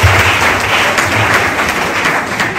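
Church congregation applauding during a Sunday service at a prayer and deliverance church, a steady dense wash of clapping held at full level for nearly three seconds with no break.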